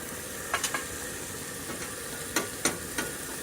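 Minced garlic sizzling in butter in a pan while making cheesesteaks, a steady low frying hiss with several light clicks and scrapes of a utensil stirring.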